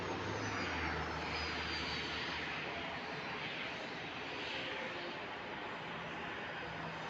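A Ryanair Boeing 737-8AS landing on runway 23 at Madeira Airport, a distant, steady broadband jet roar that holds fairly evenly, faint and without voices.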